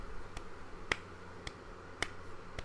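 Isolated hand claps, close and crisp, land at an unhurried pace: five strikes in under three seconds, two of them noticeably louder, over a low, quiet background.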